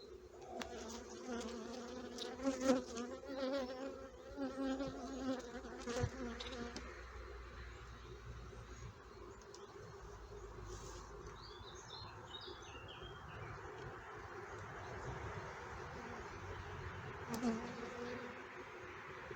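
Honeybees in a queenless hive hum and buzz in a soft, steady drone, fairly faint and close, with occasional brighter chirping tones rising above the buzz and no talk.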